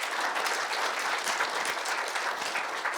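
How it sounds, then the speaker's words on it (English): A university audience applauds a student panel, with dense, steady clapping from many hands that holds at an even level for the whole stretch and has no voices over it. "Just give a round of applause for our whole panel."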